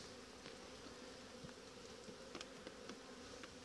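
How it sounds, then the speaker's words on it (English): A dense, steady hum of many honeybees buzzing together inside a crowded hive, continuous and close, with a few brief higher-pitched zips of individual bees passing near. "They got lots and lots of bees in there."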